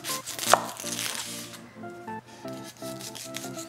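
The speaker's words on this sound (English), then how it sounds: "Cut the onion down the middle." A kitchen knife cuts through an onion on a cutting board, making quick repeated close scraping and chopping strokes alone, with music playing underneath.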